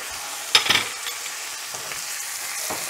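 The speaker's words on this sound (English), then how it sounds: "You want to be sure to flip the steak" Steak sizzles in butter in a hot pan as it is flipped: a steady broad sizzle with a couple of sharp clattering jolts near the start, then an even frying hiss.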